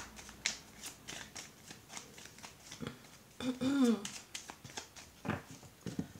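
A deck of cards is shuffled up close, with quick papery riffles and flicks repeated in bursts and one fuller riffle near the middle, while someone talks over it.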